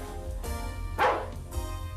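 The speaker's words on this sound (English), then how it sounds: "1 bark means true, 2 barks means false." A cartoon robot dog barks, with a sharp bark rising over a low, constant background hum and fainter yips on either side.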